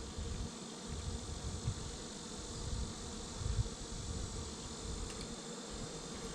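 Honey bees drone in a dense, steady buzz from an opened, well-populated hive during a state bee inspection, close up and continuous with a few louder passes.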